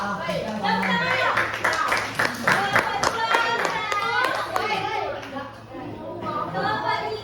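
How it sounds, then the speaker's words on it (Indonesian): Junior high school students in a class quiz burst into clapping, a dense run of sharp hand claps near and loud that thins out over several seconds while voices talk over it. "Tepuk tangan"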